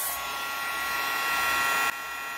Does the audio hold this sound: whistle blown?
no